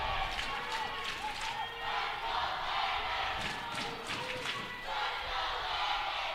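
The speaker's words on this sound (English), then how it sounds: "You can hear the Warrior fans cheering on Frost" Fans at an Iowa high school regional duals wrestling match cheer and shout for a wrestler, a dense, steady crowd roar filling the gym with scattered yells and thumps throughout.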